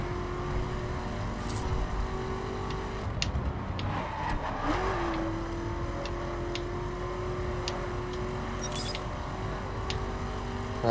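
A car accelerating in the racing video game The Crew, its engine note climbing and shifting with a few revving pitch changes over a steady game soundtrack, fairly quiet, with no talk.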